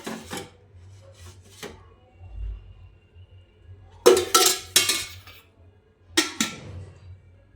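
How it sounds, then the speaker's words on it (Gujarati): Kalakand batter of milk powder, sugar and ghee being stirred in a pan over low-to-medium flame, giving soft scraping and rubbing strokes, some quiet and a few louder bursts of spoon against pan. "બધા બેટરને સરસ મિક્સ કરી લઈએ।"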